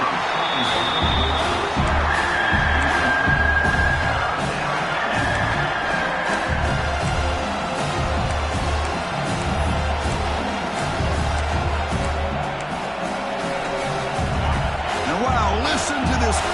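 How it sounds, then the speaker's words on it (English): Stadium crowd roar in College Football 26, a dense continuous wash of cheering and shouting under a commentator's voice speaking throughout. "Listen to this crowd noise."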